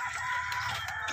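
A hen kept outside in a rural yard clucks and calls briefly, fairly close and clear, with no talk over it.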